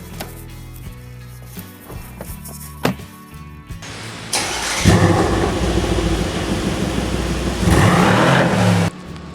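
Mercedes-AMG C63 S fires up and revs, a loud close engine roar building after quieter mechanical clatter, with two sustained surges of revving.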